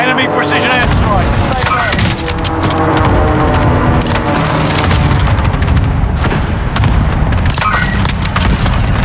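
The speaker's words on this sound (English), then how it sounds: "Enemy precision airstrikes." A continuous barrage of precision airstrike explosions in Call of Duty Warzone, loud and close, with repeated booms and gunfire-like bursts piling up over several seconds.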